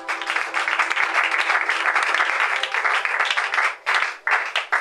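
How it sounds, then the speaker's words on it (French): A church congregation at a spiritual teaching by a priest breaks into loud, sustained applause and cheering, a dense continuous roar of clapping and voices that barely dips near the end. "Acclamons très fort pour Jésus."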